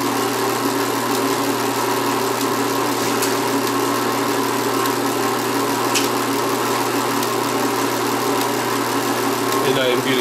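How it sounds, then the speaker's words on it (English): A BMW X5 engine idles steadily near 800 RPM, a constant close mechanical hum with faint ticking from the fuel injectors running through it. "you can hear the injectors kicking in, so it tells me that the signal's getting released to the injectors"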